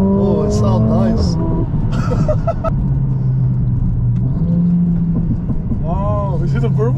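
A 2025 Mercedes-AMG CLA 45 S engine revs and drones with crackling exhaust pops and burbles, while voices talk over it.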